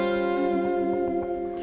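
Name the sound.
guitar playing a dominant 7 sharp 5 sharp 9 chord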